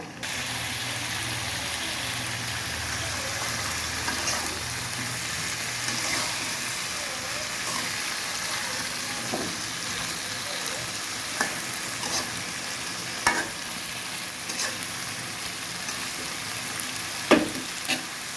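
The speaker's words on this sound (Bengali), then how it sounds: "এইবার আমি এখানে কিছু আলু কুচি দিয়ে দেব, এগুলোকে নেড়ে নেব।" Chopped potatoes frying in a pan with a steady broadband sizzle, broken by occasional soft scrapes and clacks of stirring, close and moderately loud throughout.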